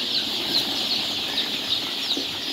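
Farm-raised broiler chickens mixed with some Sonali birds, held together for sale, cluck softly in a steady murmur with occasional wing flaps and rustling against constant hiss, no voices.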